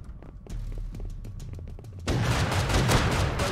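Rapid volleys of gunshots ring out in the survival game Rust during a raid with explosive ammo, a quick string of sharp cracks followed by a louder, denser burst of fire.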